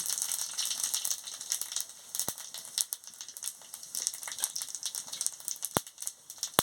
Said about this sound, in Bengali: এই শুকনো তেল গরম হয়ে গেছে, শুকনো লঙ্কা, পাঁচ ফোড়ন আর জিরে দিয়ে দিচ্ছি।